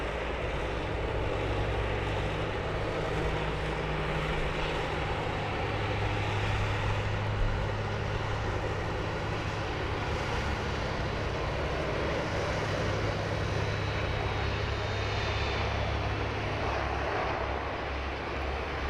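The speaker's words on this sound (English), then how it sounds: "The Qantas 737 in the ochre livery." Qantas Boeing 737 in ochre livery taxiing past close by at Sydney Airport, a continuous loud jet engine rumble and whine holding steady throughout, with no talk.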